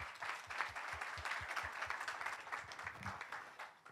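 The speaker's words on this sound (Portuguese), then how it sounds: "Uma salva de palmas para ela aqui." Audience applause for a speaker being introduced at a round-table tech event, many hands clapping in a steady, even patter at a fair distance and low level, continuing for several seconds without voices.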